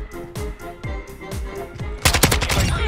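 Kastov 74U rifle gunfire in Call of Duty MW2: several loud, close bursts of rapid automatic shots repeating at an even pace, followed by a denser, harsher volley near the end, with no talking.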